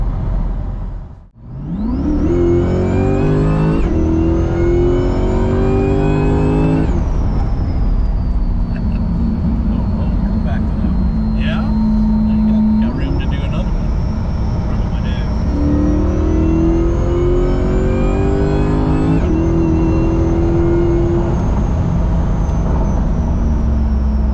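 A Chevrolet Corvette C8 engine with a Magnuson supercharger revs through several rising pulls, a high supercharger whine climbing over the loud engine roar; a voice talks underneath.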